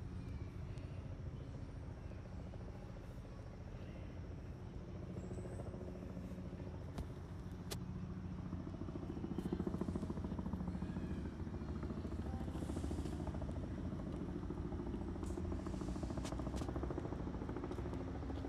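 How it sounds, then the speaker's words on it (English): A helicopter's steady low rotor drone and engine rumble fill the scene over New York City, moderately distant, swelling slightly louder midway through without voices. "Can you hear the helicopter?"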